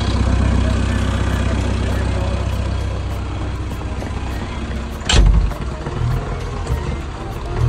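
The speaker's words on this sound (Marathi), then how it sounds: "ये हमारा प्रभु देवा जेसीबी चला रहा है." A JCB excavator engine idles with a deep, steady rumble, joined briefly by a sharp burst partway through, while people talk nearby.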